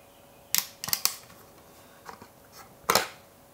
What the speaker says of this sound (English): you just press two fingers down on each of the corners, well, the bottom corners, and the lid pops up pretty easily